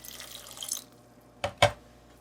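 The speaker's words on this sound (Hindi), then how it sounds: "पानी शामिल करेंगे।" Water added to dough for biryani: a brief running trickle at first, then two short, sharp splashy drips near the end, close and moderately loud, with no talking.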